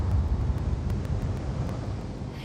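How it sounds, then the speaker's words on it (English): Spaceship engines thrusting vertically in the video game The Invincible, a steady low rumbling roar with a windy, hissing texture that stays loud and unbroken throughout, with no voices. "The engines are functional. There's a vertical thrust."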